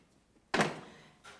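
A door swings shut with one sharp thump and a brief rattling decay, followed by a faint second knock from the latch a moment later, close and otherwise quiet.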